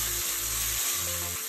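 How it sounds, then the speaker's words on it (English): Onions sauté in a pan with a constant, dense, close-up sizzle that holds evenly through the short stretch, with a low steady hum beneath and no voices. "So just saute the onions a bit."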